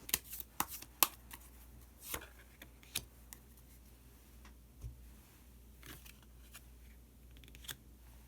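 Tarot cards snap and riffle in a few sharp, close clicks and flicks as one card is drawn from the deck, followed by quieter scattered handling taps.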